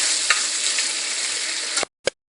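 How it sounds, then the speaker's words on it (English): Onions frying in hot oil in a pan over a high flame for masala pork khadai, producing a loud, steady hiss that cuts off abruptly, followed by one short sizzling burst. "in goes my onion after a minute of this"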